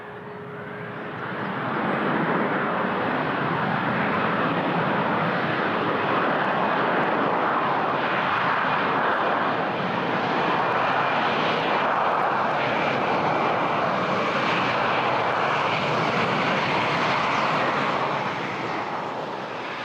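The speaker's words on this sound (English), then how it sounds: "There's an A321 coming in from Atlanta." An Airbus A321 arriving from Atlanta lands at Toronto airport, its engines roaring as a steady, loud broadband rush that swells in after the first couple of seconds and holds without any talk.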